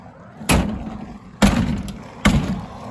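The door of a 2016 GEM E4 electric car closes three times, each a sharp, close thump with a short rattle after it, separated by about a second of quiet.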